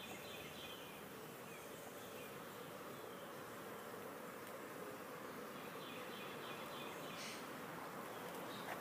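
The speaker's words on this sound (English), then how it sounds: "being real gentle, these bees are very calm" Honeybees buzz in a steady, soft hum around an open hive frame, a calm colony droning continuously at low volume with no voices.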